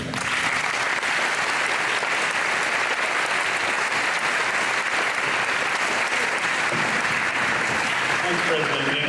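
Audience at a St Johns graduation ceremony applauding to welcome a speaker, steady loud clapping filling the whole stretch and continuing without a break.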